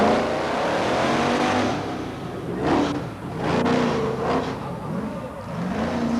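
A Bigfoot monster truck's engine revs at a 1987 USHRA event in Anaheim, California, roaring and surging through the clip over crowd noise and a faint announcer's voice.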